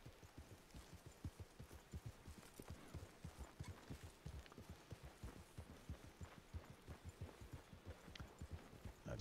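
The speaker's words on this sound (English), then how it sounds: "Oh, there's a horse up ahead." Steady clip-clop of horse hooves in a video game, a regular rhythm of hollow knocks close by, continuing throughout with no talking.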